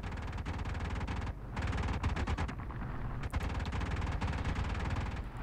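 A plane's machine guns rattle in long rapid bursts in War Thunder Mobile, dense and continuous with a brief pause between volleys, loud and close.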